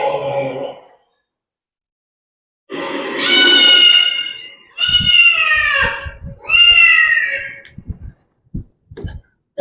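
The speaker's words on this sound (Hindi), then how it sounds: "अरे ये बिल्ली" A cat meows several times in a row, with drawn-out, wailing calls separated by short gaps. Some rustling and clicks follow the calls, heard at close range and loud.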